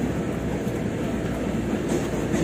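A train rumbles along a railway near S.H. Loyola Street in Manila, loud and close, with a dense, continuous roar and faint clatter throughout.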